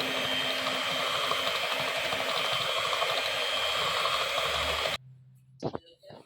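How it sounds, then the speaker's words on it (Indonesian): Electric mixer beating donut dough with milk at low speed 1, a steady close whirring drone for about five seconds that cuts off abruptly, followed by a few faint clicks and knocks. "Lalu kita mixer dengan kecepatan level 1 dulu saja ya."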